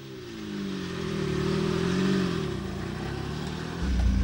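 A Jaguar sports car drives through the grounds of Bewley, its loud, rough engine droning and swelling steadily, then rising again near the end.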